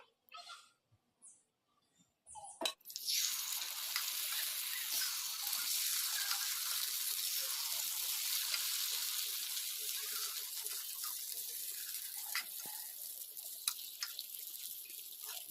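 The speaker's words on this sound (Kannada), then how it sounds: "ಈಗ ಇನ್ನೊಂದು ಸಲ ಹಾಕೊಂಡ್ಬಿಡೋಣ ಪಡ್ಡು ಸ್ವಲ್ಪ ಎಣ್ಣೆ ಹಾಕೋಣ" Paddu made from leftover dosa batter with a little oil, sizzling in the pan after a few quiet clicks, a bright steady hiss carries on, close and even, with no talk.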